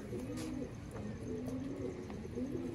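Cooing from green-pearled Master Abdullah pigeons, with low rolling coos repeating several times close by against a steady background, no talking.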